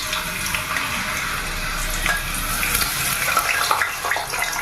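Potato slices sizzle in hot oil for homemade crispy chips, a steady dense crackling hiss close by that carries on evenly with small bubbling pops throughout.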